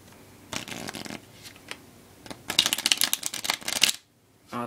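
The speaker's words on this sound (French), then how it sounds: "je vais prendre un paquet de cartes blanc. Voilà. Donc je vais le mélanger." Two bursts of rapid riffling as a deck of white playing cards is shuffled, a short flutter followed by a longer, louder crisp run of card snaps, close up with no talk.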